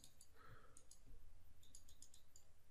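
A computer mouse gives a handful of crisp, close clicks, spaced irregularly and mostly clustered in the second half, over faint room noise with no talking.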